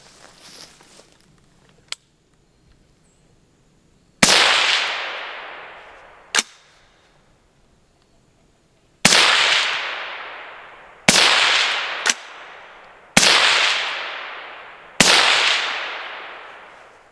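A 5.56 rifle with the second suppressor of a comparison, heard from behind the shooter: a faint tick, then sharp suppressed shots at uneven intervals, each trailing a long decaying echo, loud and close, with small metallic clicks between.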